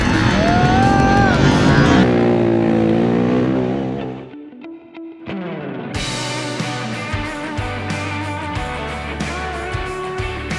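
A Honda CRF230F dirt bike works through tight sections of a motocross track. Its engine rises and falls loudly, dips briefly, then resumes with choppy on-off throttle bursts.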